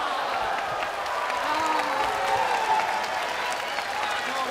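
Wrestling arena crowd at a pro wrestling event roars and applauds steadily throughout, a dense wash of clapping and cheering with no single voice standing out.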